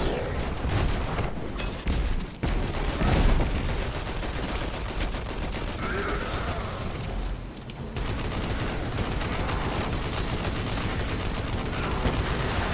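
Gunfire in Destiny 2, a dense, steady stream of rapid weapon shots and impacts with occasional heavier blasts, loud and continuous throughout.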